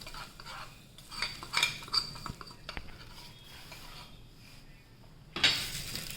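A spoon scraping and clinking against a bowl while potato bhungla masala is mixed, with several distinct metallic taps and stirring scrapes, close and fairly quiet.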